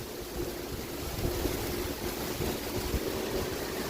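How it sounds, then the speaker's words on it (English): Wind gusts build during a Wisconsin thunderstorm, a steady broadband rushing roar with buffeting microphone noise that swells slightly, heard alone without voices. "here comes the wind"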